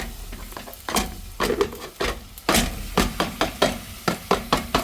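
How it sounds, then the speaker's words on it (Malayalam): Minced keema is stirred in a hot pan, with repeated scraping, knocking strokes of a spoon against the pan over a steady sizzle, close and fairly loud with no talk. "എങ്കിൽ നമുക്ക് കീമ ചേർക്കാം"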